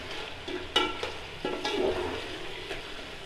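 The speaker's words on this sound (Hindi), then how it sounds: "चिकन को हम अच्छी तरह इसमें सुरख करेंगे।" Chicken browning in hot oil inside a pot for pulao, a soft continuous sizzle broken by scraping stirs and clinks of a spoon, fairly quiet and close, with no voices.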